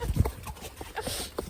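Horses being ridden walk along with a soft, uneven clip-clop of hooves, faint and fairly close, amid light outdoor background noise.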